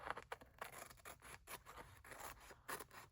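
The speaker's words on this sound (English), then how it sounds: "So I'm just going to trim this." Scissors trim paper for a memory-keeping journal, a quick series of soft, close snips and paper rustles at low volume.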